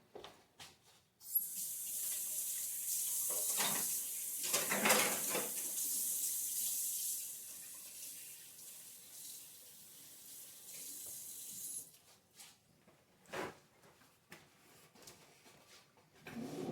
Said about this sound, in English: I'm gonna wash up